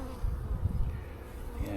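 Honeybees buzzing steadily and close during an early-spring beehive inspection, a dense continuous hum filling the clip with no talking.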